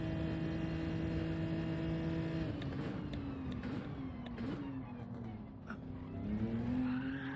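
Tires squeal in a long sustained screech as a car spins out during a cold-weather qualifying lap in Gran Turismo 7, over a steady engine drone, the squeal wavering and rising again near the end.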